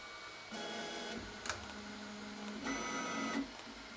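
An E3D toolchanger 3D printer picks up a tool and moves it to a microscope, giving off a quiet whirring stepper-motor whine in two separate motion bursts with a small click between them.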